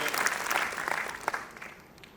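Hall audience at the AIIMS Rishikesh World Trauma Week event clapping together, a thick burst of applause that stays strong, then thins and fades out toward the end.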